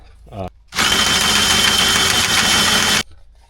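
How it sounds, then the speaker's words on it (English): A Harbor Freight tube notcher driving a Diablo bimetal hole saw through roll cage tubing, a loud steady whirring grind of about two seconds that starts abruptly and stops, after a brief voice. "So this is just a Harbor Freight tube notcher. We got a Diablo bimetal hole saw."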